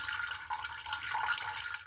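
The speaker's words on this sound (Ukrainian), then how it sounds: "Даю звичайної води 250 грамів" Plain filtered water, 250 grams, being poured into a bowl for pancake batter, a steady close trickling splash that runs continuously for about two seconds with no talk.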